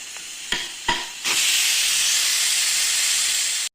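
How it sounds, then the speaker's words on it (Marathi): Rice cooks in a pot on a home stove, releasing a loud, steady hiss of steam that follows two brief knocks and runs for several seconds before cutting off. "हे बघा चांगलं शिजतोय आपला भात।"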